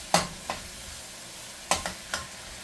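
Leftover shrimp and chicken fried rice is stirred in a pan, with a low sizzle under a few distinct scraping stirs in two short bursts.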